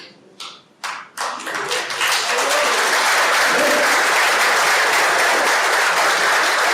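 Church congregation applauding during a Spanish-language sermon, starting with a few separate claps that quickly swell into sustained, dense applause.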